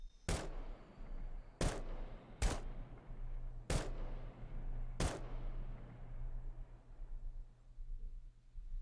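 Five loud, sharp shots from a semi-automatic .308 marksman rifle in the game SCUM, fired singly at uneven intervals of about a second or more, each leaving a short fading echo over a low steady hum.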